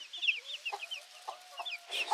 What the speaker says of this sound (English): She's clucking. She wants more food.